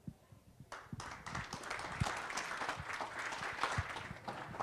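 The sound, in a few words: audience applause after a speech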